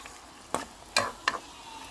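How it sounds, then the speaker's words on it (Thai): Chilies are dry-roasted in a pan for a northern Thai pickled bamboo shoot curry, with three quick sharp scraping strokes over a faint background hiss. "คั่วให้มันหอมๆพริกค่ะ"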